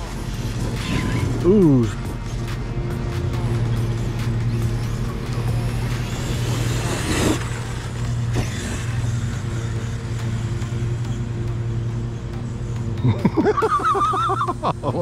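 A Kraton 8S EXB RC car runs at full throttle on its first run, its electric motor whining in rising sweeps over a constant drone, with rattling mechanical clatter. A person exclaims briefly in the middle.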